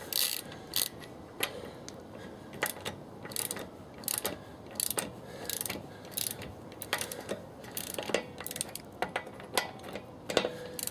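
Car wheel lug nuts being loosened with a ratcheting wrench, a close series of sharp metallic clicks and ratchet bursts in irregular rhythm, with no talking.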